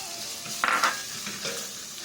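Ginger, with garlic going in, sauteing in a pan for a pork, string bean and kamansi dish in coconut milk. A brief sharp scrape or clink rises over a low steady sizzle, heard up close.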